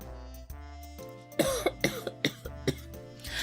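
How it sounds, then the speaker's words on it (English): Several sharp coughs in a burst close to the microphone, with some throat clearing, over a steady low hum. "Sorry for coughing in the mic."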